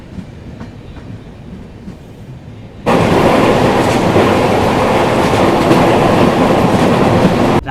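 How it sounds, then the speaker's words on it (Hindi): New Delhi-Ranchi Rajdhani Express running through West Bengal after leaving Bokaro; a quieter start gives way at about three seconds to loud, steady interior rumble and clickety-clack of the rolling rail cars, with no talk. "हमारी ट्रेन बोकारो से निकलने के बाद अब वेस्ट बंगाल में एंटर हुई है।"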